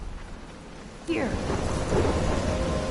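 A thunderstorm in the video game Life is Strange, heavy rain hissing steadily, then a sudden loud crack of thunder that rolls on under the downpour, with a brief voice in the middle.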